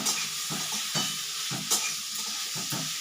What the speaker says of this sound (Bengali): তোমরা দেখো আমি ততক্ষণ একটু ভাজা ভাজা করে নিই